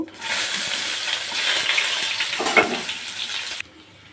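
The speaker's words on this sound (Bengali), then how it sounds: "তারপর যে পেঁয়াজটা ভেজে নেব" Onion fries in a pan that already holds cumin, bay leaf, cinnamon, cloves and cardamom, giving a loud, steady hiss and sizzle that stops abruptly near the end.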